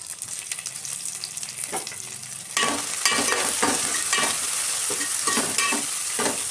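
Mutton curry with mint frying and being stirred in a pan: a steady close sizzle with repeated scraping strokes that grow louder and busier after the first couple of seconds, no talk.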